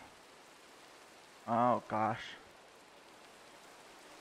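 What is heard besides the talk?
rain in the video game Minecraft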